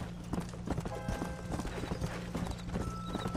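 Horse hooves clip-clopping at a trot in the video game Red Dead Redemption, a quick rhythmic series of close, crisp hoof strikes with a brief whinny-like tone, over a low game background hum and no speech.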